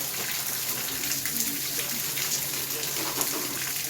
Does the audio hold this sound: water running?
yes